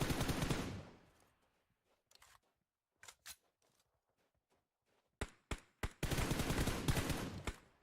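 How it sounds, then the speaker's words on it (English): Long-range gunfire in an online battle-royale squad match: a dense loud volley opens, then scattered single cracks and short bursts at varied distances, ending in another sustained loud barrage. "Long range shots from Black Mambas"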